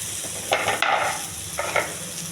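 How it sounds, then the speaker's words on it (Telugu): Mango and coconut pieces sizzle and get stirred in a hot pan, a soft steady frying hiss broken by a few brief louder scrapes of stirring. "వేడి పెనంలో కొంచెం అటు ఇటు ఎగించాలి, మరి ఎక్కువ వద్దు."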